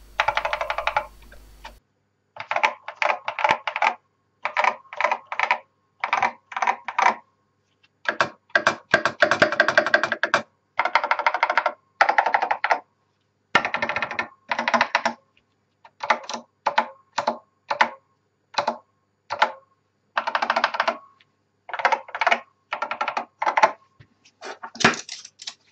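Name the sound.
typing on a Honeywell VIP 7251 vintage mechanical keyboard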